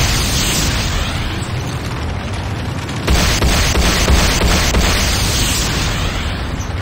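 A Nod turret is destroyed in the game C&C Renegade, with dense, loud explosive rumble and crackling bursts that swell sharply midway and continue heavily to the end, without any talk.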